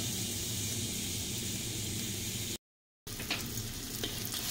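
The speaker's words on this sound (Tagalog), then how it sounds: "Tapos igisa natin ng konti yung hipon natin" Ginger, garlic, onion and shrimp sauté in a pan with a dense, steady sizzle and crackle; the sound cuts out for a moment in a brief silent gap, then the frying resumes.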